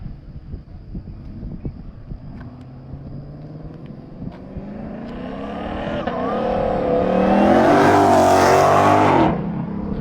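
Killer Coatings Porsche GT3RS race car at Eagles Canyon: a faint engine hum builds as the car approaches, swells into a loud roaring pass with rising and falling engine pitch, then cuts off sharply, with some wind noise.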